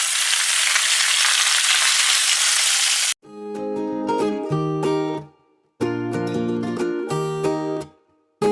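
Food frying in a pan of oil sizzles loudly and steadily up close for a few seconds, then gives way to music for the rest of the stretch.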